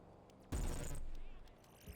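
Gunfire in the GTA 5 Online video game: a dense automatic burst lasting about half a second, then a decaying tail with faint game sounds around it, fairly quiet overall.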